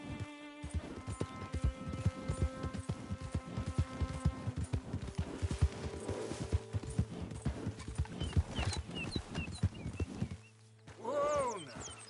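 Horse hooves in Red Dead Redemption 2 clip-clop steadily at a brisk pace for most of the stretch, with occasional whinnies and a rider's voice cueing the horse, over layered game music and ambience.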